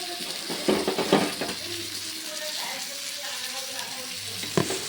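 A vegetarian paneer curry is sautéed in a pan, with a soft, steady sizzle under repeated metal clinks and scrapes of a spoon against the pot, a couple of louder knocks standing out.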